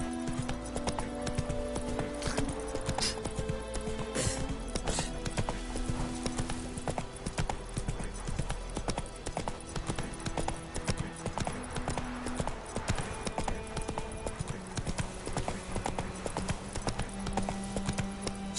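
The horse Roach from The Witcher 3 gallops in steady, rapid clip-clop hoofbeats, continuous and close, with game music and ambient tones layered underneath.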